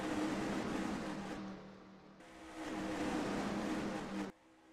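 Stock cars racing past at Daytona in a racing game, a loud engine roar that dips, swells again as another car passes, then cuts off abruptly.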